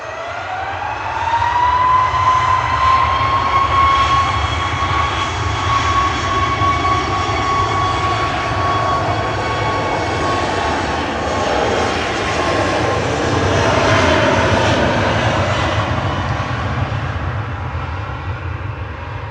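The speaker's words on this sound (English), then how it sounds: "Ryanair departing now" Ryanair jet airliner departing Manchester Airport, engines roaring in a powerful sustained blast with a rising whine, loud and near, then slowly easing as it climbs away.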